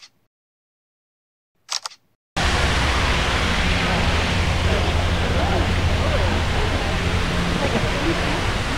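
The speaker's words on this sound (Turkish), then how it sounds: "Ortada bir tane bu şelalesi kurmuşlar" Artificial waterfall in a botanical garden in Atlanta, a steady loud rush of falling water starting abruptly after near silence with a brief click, continuing evenly to the end.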